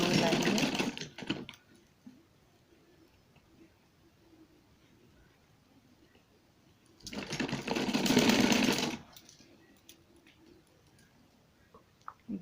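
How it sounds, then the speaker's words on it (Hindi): A sewing machine stitches a gown in two loud, close bursts of rapid whirring, with a long quiet stretch between them and faint background noise. "इस तरह से हम यहाँ चुने चुने डालते हुए सीते हुए लाएंगे"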